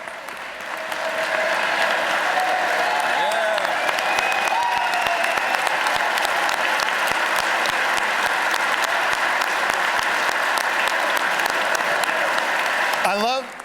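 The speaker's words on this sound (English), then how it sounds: "I love that our favorite plumber senator led the clapping for the trades" A large audience at the Pennsylvania governor's 2026-27 budget address claps for the trades, a sustained dense roar of applause from start to finish that swells quickly, stays full, and then breaks off sharply near the end.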